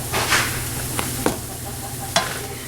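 Egg muffin filling sizzling steadily in a hot pan, with a few clear scrapes and taps of a utensil stirring it, close and alone.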